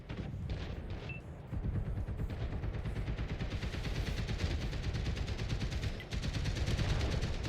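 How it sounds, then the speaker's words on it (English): Tanks including a Challenger 2 and a Leopard 2A5 trade shots in a competitive tank video game match, with steady loud gunfire and booming blasts rolling continuously without voices. "Both teams just trading shots where they can"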